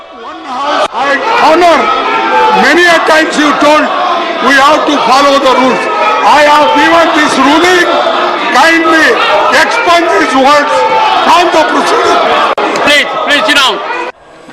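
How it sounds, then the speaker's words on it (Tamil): BJP members in Parliament keep up loud, overlapping slogan-shouting, a rowdy chorus of raised voices with rhythmic chants and cries that continues almost unbroken before cutting off abruptly at the end. "பாஜகவினர் தொடர்ந்து முழக்கங்களை எழுப்பினர்"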